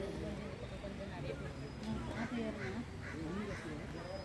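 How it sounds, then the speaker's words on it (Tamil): Ducks and other birds quack repeatedly in the middle distance at Modachur lake park, over a busy outdoor background, their calls overlapping with a voice talking nearby. "நிறைய பறவைகள்லாம் இருக்குது இங்கே. அதோட சத்தத்தில் ரொம்ப நல்லா இருக்குது"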